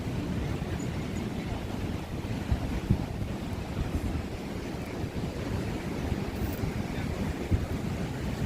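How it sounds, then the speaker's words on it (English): Ocean waves surge and break steadily at Ocean Beach, California, a continuous low roaring wash mixed with gusts of wind buffeting the microphone, with no voices. "Look at how the waves are crashing."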